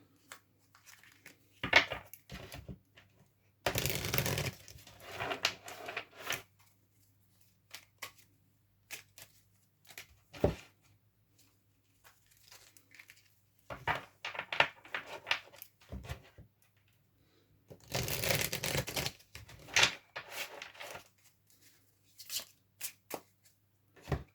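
Bursts of crisp riffling and flicking as tarot cards are shuffled repeatedly, separated by short pauses and scattered taps, close and fairly loud.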